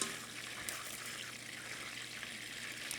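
Melted butter foams in a pan as its water boils off, giving a faint, continuous crackling sizzle with soft bubbling and no talking.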